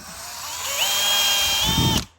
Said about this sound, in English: I'm going to use my stepper bit that's on that yellow drill over there